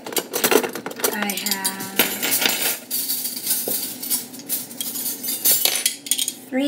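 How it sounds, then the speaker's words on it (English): Metal forks, knives and spoons clatter and clink as they are sorted by hand against a hard surface, rapid irregular jangles close by with brief metallic rings and no speech. "And this is all the silverware that I have to try to sort."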